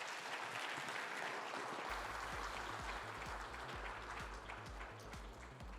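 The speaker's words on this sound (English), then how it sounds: "let's give him a big round of applause" Audience applause fills a conference hall after an insurance presentation, a dense sustained clapping that holds steady for several seconds while a low rhythmic hum runs underneath.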